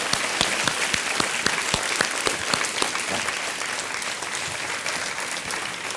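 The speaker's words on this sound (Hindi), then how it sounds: "एक बार फिर जोरदार तालियां अर्चना के लिए।" Studio audience applause for a contestant on the Hindi quiz show KBC, loud and dense clapping from a large crowd that stays steady from start to finish.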